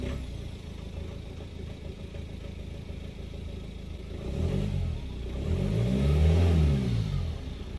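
A BMW car engine idles steadily, then revs up twice in rising and falling swells over the last few seconds, close and fairly loud with no talking.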